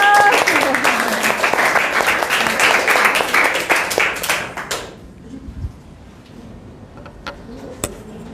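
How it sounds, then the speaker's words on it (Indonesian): Classroom applause after a group presentation: many hands clap loudly for about five seconds, then cut off abruptly, leaving a quiet room with a few scattered claps and a voice speaking. "Oke, kasih aplaus."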